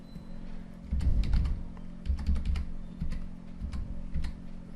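Keys clack steadily on a computer keyboard in a short run of typing with small pauses, close and fairly clear over a faint low hum.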